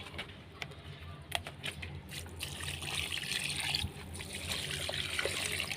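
Water trickles and splashes steadily onto potted pepper plants, a close, continuous pour with a few soft knocks at the start.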